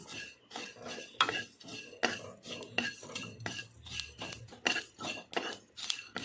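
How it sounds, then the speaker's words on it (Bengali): Whole spices frying in a pan for fried rice, stirred with a metal spatula that makes steady, rhythmic clinks and scrapes against the pan, close and fairly loud throughout, with no talking. "সব মশলা ভালোভাবে আমি ভেজে নেব"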